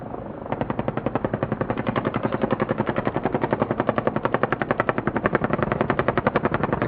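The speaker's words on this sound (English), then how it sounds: "20mm Gatling cannons engaging target." 20mm Gatling cannons fire in one long, sustained burst, a rapid, evenly pulsing roar that carries on loudly with no pause and no voices.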